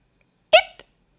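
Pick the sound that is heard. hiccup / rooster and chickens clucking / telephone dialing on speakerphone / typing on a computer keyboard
hiccup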